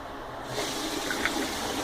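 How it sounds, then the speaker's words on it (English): Tap water runs into a mug in a home kitchen while cooking, a steady hissing pour starting after a brief quiet moment and continuing to the end. "I fill up this mug"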